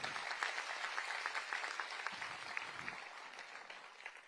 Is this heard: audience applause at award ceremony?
yes